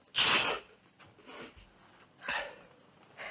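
A man sneezes once, a sharp loud burst, followed by a few softer sniffs and breathy snorts in a quiet room.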